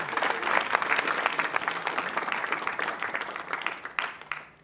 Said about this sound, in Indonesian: Tepuk tangan dulu buat Nikita Mirzani.